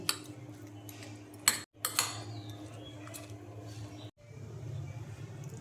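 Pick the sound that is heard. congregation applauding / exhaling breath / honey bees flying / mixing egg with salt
mixing egg with salt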